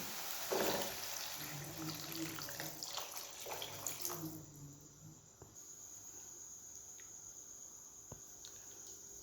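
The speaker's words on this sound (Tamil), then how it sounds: "நான் ஒரு செம்பு நிறைய தண்ணி ஊற்றிக்க போகிறேன்" A potful of water pours into a kurma pan with a steady rushing splash for about four seconds, then the pan settles into a quieter simmering hiss with faint ticks.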